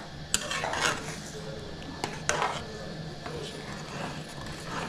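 A spatula scraping and clinking against a pan while egg burji is stirred slowly, with light metallic taps and a low sizzle underneath.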